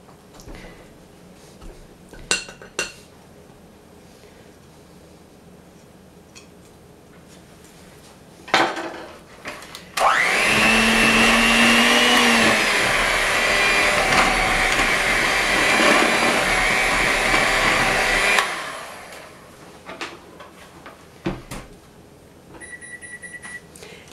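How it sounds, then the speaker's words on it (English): Kitchen oven preheating to 350 degrees: a loud, steady whirring hum runs for several seconds and then stops, followed by faint clicks and a few short, high beeps near the end amid quiet kitchen clatter. "That's my oven I have preheating to 350 degrees."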